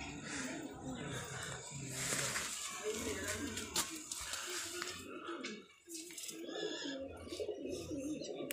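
Pigeons coo in a coop, a steady murmur of birds running throughout beneath someone talking nearby.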